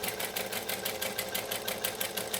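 A sewing machine stitches a vinyl handbag in a steady, rapid rhythmic whir, the needle's pulsing beat repeating evenly throughout, close but moderately quiet, with no voices.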